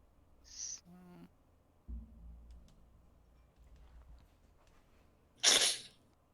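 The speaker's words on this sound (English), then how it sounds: "I think it was a sneeze." A single sharp sneeze rings out loudly outdoors at night, preceded by faint scattered ambient noises and soft knocks.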